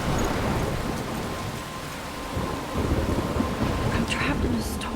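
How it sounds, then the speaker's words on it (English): A heavy rainstorm in the video game Life is Strange roars as a steady, dense downpour, with low thunder rumbling beneath and a brief crack of thunder near the end. "I'm trapped in a storm?"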